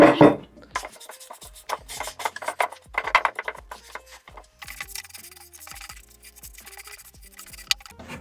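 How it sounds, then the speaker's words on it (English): A cloth rubs and wipes excess stain off a vintage wooden chest of drawers, making soft irregular scuffing strokes close by, with scattered knocks and small clatters between passes. "Grab a cloth and wipe away the excess"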